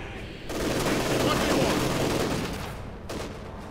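Dense battle gunfire from the Company of Heroes 2 strategy game: a continuous rattling fusillade of rifles and machine guns that swells after a quiet start, holds steady for a few seconds, then eases off.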